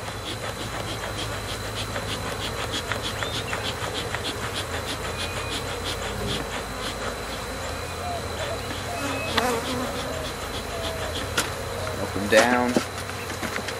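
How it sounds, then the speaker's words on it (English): Angry bees from a crowded hive with many queens, being smoked, hum in a thick steady buzz throughout, close and continuous, with a few brief words spoken over it and a clatter near the end. "Oh yeah, that's your angry hive."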